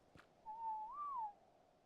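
A single short whistle command for a tamed dinosaur in the survival game ARK, a clean tone lasting under a second that glides gently upward and then settles, heard alone in a quiet moment.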